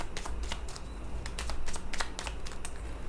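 Tarot cards shuffled by hand during a reading, a steady run of close, crisp riffling flicks and slaps lasting a few seconds with no talk.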